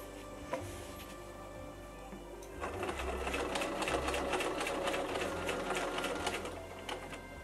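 A sewing machine stitches around the busk of an 1860s corset. A few clicks come first, then a steady, fast mechanical whirr of the needle running for several seconds, close and moderately quiet.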